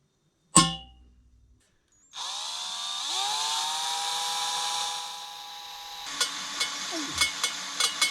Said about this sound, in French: Donc faut que je perce à 25 mm, à 25.